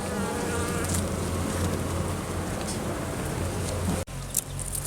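A honeybee colony that had suffered Asian hornet attacks buzzes densely at the hive, a loud, continuous drone close by with a brief knock near the end.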